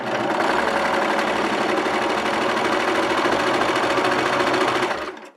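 A Baby Lock Eclipse DX serger runs at speed stitching and trimming fabric, a loud, rapid, continuous mechanical whir that holds steady for about five seconds before stopping.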